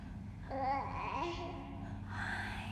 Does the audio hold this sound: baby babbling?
yes